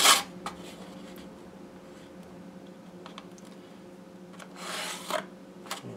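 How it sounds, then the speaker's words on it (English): Faint scratching of a pencil drawing a line along a straight edge from a center mark on a foam meat tray glider, a few short quiet strokes close by over a low steady hum, with no talk. "take my straight edge and line it up like this and draw a line from that center mark"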